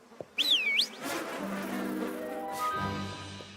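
Steady insect-like buzzing of bees, fairly close, with a brief rising whine at the start and a droning hum continuing throughout.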